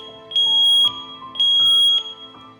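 A household smoke detector going off in the middle of the night, sounding two long piercing high-pitched beeps in a regular pulsing rhythm, loud and close with no voices.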